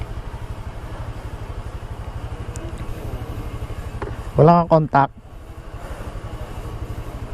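A motorcycle engine idles with a steady close putter, a few short words are spoken over it, then the engine is switched off and the putter fades before restarting faintly.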